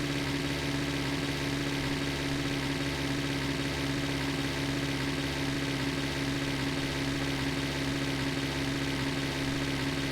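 A car engine idles and hums steadily in The Long Drive, a desert driving game, with the engine running warm; a continuous low drone with a strong tonal hum holds at an even level throughout, with no voices.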